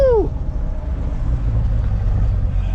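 A tuned Chevrolet C8 Corvette with its rear-mounted 500-horsepower engine gives a sharp rev that falls away, then settles into a loud, rough low drone close by.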